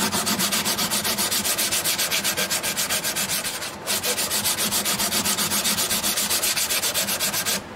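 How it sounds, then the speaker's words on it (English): Rhythmic back-and-forth sanding of the freshly applied finish on a custom 12-string dreadnought guitar, loud and close with an even rubbing stroke repeating steadily and a brief pause midway. "this is the very first time this has been sanded since the finishes were applied"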